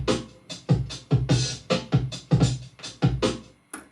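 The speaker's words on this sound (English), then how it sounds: "let's play the drum sample again" A drum sample plays back from an Akai MPC X SE or Ensoniq ASR-10 sampler, with punchy, deep hits landing in an even groove of about two per second, close and clear, with no voice over it.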